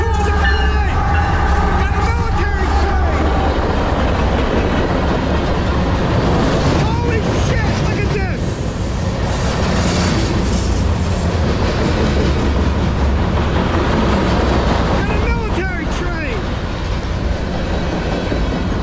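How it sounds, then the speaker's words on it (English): A CSX military freight train rumbles past up close, with steady clattering wheels, squealing metal and a continuous heavy roar throughout; brief voices are faintly audible. "It's a military train! Holy crap! CSX military train!"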